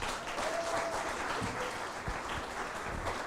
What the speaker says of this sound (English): A huge round of applause for Diana.